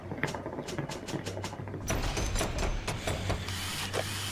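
A weapon upgrade station machine in the video game Bioshock whirs and clatters mechanically, with rapid ratcheting clicks and a steady low hum that grows busier partway through.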